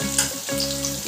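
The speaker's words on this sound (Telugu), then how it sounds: "అల్లం ఉల్లిగడ్డ పచ్చిమిరపకాయలు ఇవి ఫ్రై కానివ్వాలి మంచిగా." Ginger, onion and green chillies fry in a pan alongside already-fried bitter gourd pieces for a bitter gourd and tomato curry, producing a brief close sizzle with a faint steady hum underneath.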